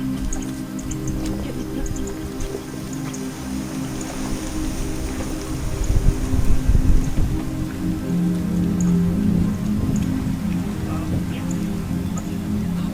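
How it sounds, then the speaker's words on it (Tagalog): Steady rain on the summit of Mt. Panamao in Biliran, a continuous dense hiss of drops with occasional louder drips and a rumbling wind-like swell midway, close and fairly loud, with no talking. "Umuulan sa mga panahon ito"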